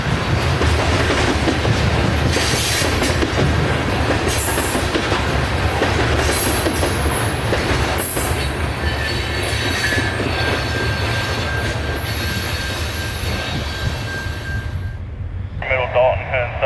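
A CSX freight train of white hopper cars rolling past close by on the scenic W&A line, loud continuous rumble with rhythmic wheel clatter and squealing flanges, fading out at the end while someone narrates over it.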